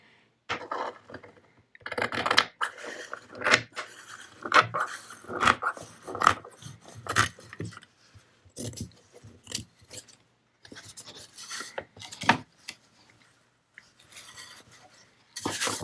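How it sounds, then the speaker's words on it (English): Scissors cutting through a fat quarter of cotton fabric for a craft project, a series of crisp snipping and rasping strokes in uneven bursts with short pauses, close and clear with no speech. "So I'm just going to cut my piece out to measure that"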